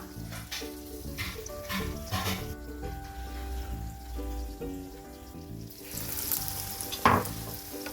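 Battered panikoorka leaf fritters deep-frying in hot oil, a steady close sizzle running throughout under faint background music, with a sharp clink near the end.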